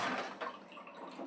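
Boiled ingredients in a cooking pan have their water drained off, and the liquid splashes and trickles loudly and briefly, close to the listener with no talking.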